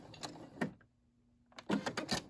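A Brother SE600 sewing machine back stitches in two short bursts of rapid mechanical clatter, close and fairly quiet, separated by a near-silent pause with a faint steady hum.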